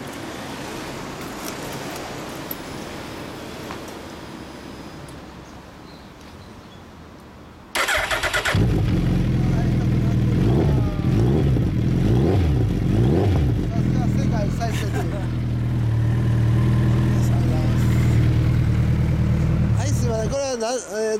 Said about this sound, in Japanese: エンジンを聞かせてもらえますか？